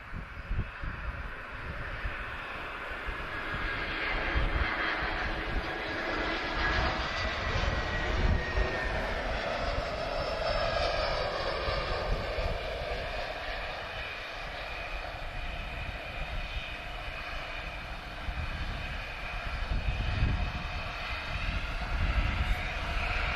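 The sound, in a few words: Airbus jet from Amsterdam landing in crosswind at Lisbon Airport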